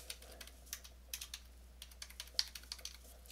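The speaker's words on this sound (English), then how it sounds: "Let me actually just type that into here" Soft, scattered keystrokes tap on a computer keyboard, close but quiet, in small irregular clusters with one slightly sharper click and no talking.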